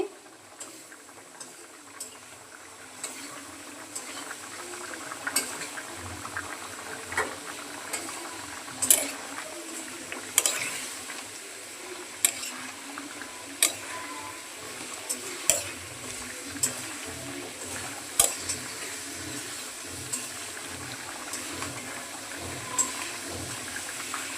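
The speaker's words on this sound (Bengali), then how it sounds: "ঝোল ফুটে গেছে, এখন ভেজে রাখা মাছগুলো দিয়ে দিচ্ছি" A pot of Bengali koi fish curry with potato and taro simmers in broth as pre-fried koi fish go in, giving a steady low bubbling hiss with a series of sharp clinks and taps spaced through it, with no talking.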